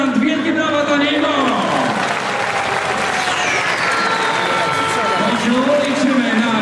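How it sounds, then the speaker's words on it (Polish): Spectators in the stands at a men's second-league volleyball match applaud, a steady crowd roar of clapping heard at a distance through an arena, with a voice or tonal sound riding above it. "Wielkie brawa dla niego!"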